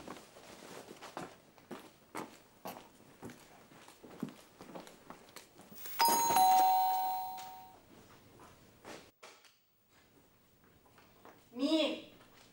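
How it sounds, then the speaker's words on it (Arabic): A doorbell rings once at night inside a home, a bright chime standing out clearly over footsteps and scattered household noise, with voices talking nearby. "مين اللي بيضرب جرس دلوقتي كده؟"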